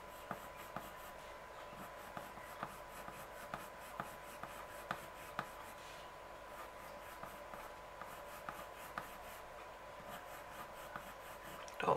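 A coloured pencil shades back and forth on paper for a pink hair drawing, giving a quiet, close, rhythmic scratchy rasp with regular strokes and small taps, with no voices.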